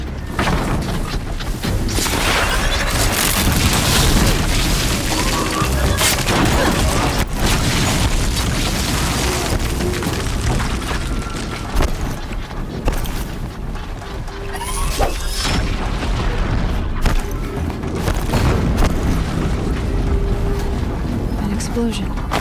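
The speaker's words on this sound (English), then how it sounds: "An explosion." Explosions and crashing impacts in the video game Horizon Zero Dawn, with loud booms and mechanical clatter over a dense, constant battle din, several sharp hits standing out across the stretch.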